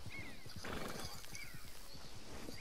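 A horse in the video game Red Dead Redemption 2 neighs loudly while its hooves clip-clop in a steady, fast rhythm throughout, close and clear.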